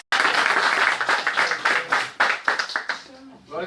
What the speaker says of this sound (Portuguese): Então vamos receber aqui o consagrado nome de Deus com as palmas bem felizes para Jesus.